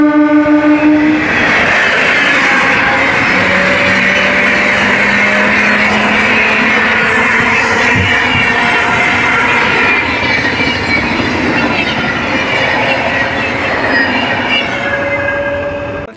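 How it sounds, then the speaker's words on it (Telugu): A train pulls into a rural railway station; a long horn blast sounds at the start, then a loud steady rumble of rolling wheels with clickety-clack and brief squeals continues close by for the whole clip. "ఇదో ట్రైన్ వచ్చేస్తుందండి"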